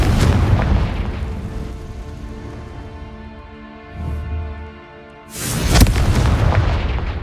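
Spell explosions from the Confringo curse in the video game Hogwarts Legacy, a deep booming blast that rumbles and decays, followed by a second sharp burst near the end.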